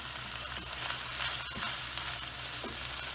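Ground beef fries in a pan with a dense, continuous sizzle at moderate loudness, interrupted by a few soft clicks of a utensil, with no voices.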